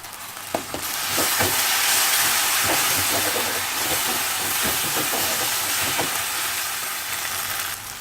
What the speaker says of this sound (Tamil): ஒரு நிமிஷம் வதக்கி விட்டால் போதும்